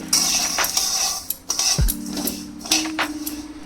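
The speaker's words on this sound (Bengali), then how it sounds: "হালকা নাড়াচাড়া করে একটু লাল লাল করে আমি ডালিয়াটাকে ফার্স্টে ভেজে নেব" A spoon clinks and scrapes against a pan on an induction cooktop while broken wheat (dalia) and moong dal are stirred and dry-roasted: irregular close metallic taps and scrapes with brief pauses between strokes.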